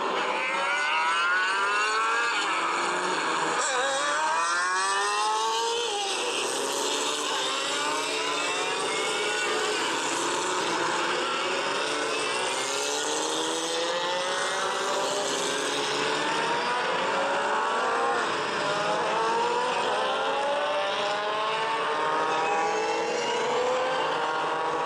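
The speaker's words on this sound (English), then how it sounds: "the pace car is coming around" Race cars rumble along in a pack behind the pace car at Laguna Seca, a loud, continuous engine drone with overlapping rising and falling tones as the cars shift and pass.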